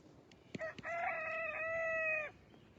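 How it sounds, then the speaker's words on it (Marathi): A rooster gives one long, clear crow lasting over a second, preceded by a couple of faint knocks, set against a quiet background. "कोंबडा बी पोगतोय हा."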